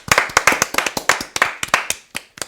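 A small group claps through a short round of applause closing a sports talk show, sharp irregular hand claps close by, loud and alone with no talking.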